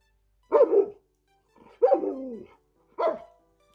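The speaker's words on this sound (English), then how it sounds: "Alexa, sound like a dog." A smart speaker plays recorded dog barking: three separate barks spaced about a second apart, clear and close against a quiet room.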